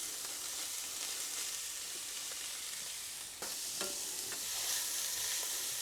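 Pork belly and onions fry over high heat in a pan, a steady close sizzle with scraping, knocking stirs of a utensil partway through and the hiss rising again afterward, no talking.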